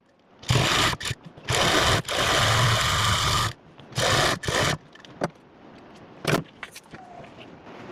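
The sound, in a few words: sewing machine stitching a corner on a suit collar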